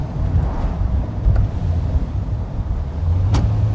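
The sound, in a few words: 1979 Volkswagen Super Beetle Cabriolet driving on the road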